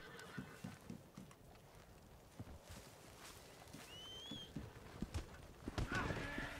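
Hooves clip-clop steadily with a brief neigh from a horse in Red Dead Online, set in the West Elizabeth area; the sounds are moderately close over a quiet ambient game background.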